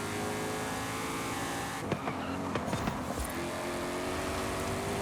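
A Ford races along roads in Forza Horizon 5, a steady engine drone at speed with brief tire squeals and knocks partway through, and no talk.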